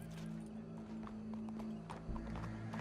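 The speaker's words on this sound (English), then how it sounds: "Go brush that horse, officer." Horse hooves clip-clop on the ground in the Red Dead Redemption 2 video game, a steady run of hoofbeats over a low, busy game soundtrack with a brief whinny.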